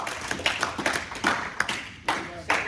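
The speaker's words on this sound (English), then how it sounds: "clap it up for some moms, man" Scattered hand claps from a small audience honoring moms, a few sharp distinct claps spaced irregularly across the moment with faint voices underneath.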